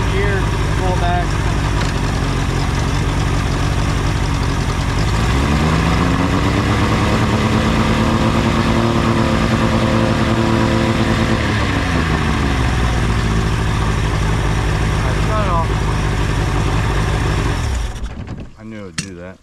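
A Mariner 60hp outboard motor runs steadily and loudly up close, its pitch rising and falling in the middle as the throttle shifts, before it cuts out near the end; the engine fills the clip alone.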